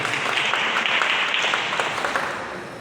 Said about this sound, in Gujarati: તાળીઓના ગડગડાટથી ગફારભાઈને વધારેલો ને નેનોને વધારેલો.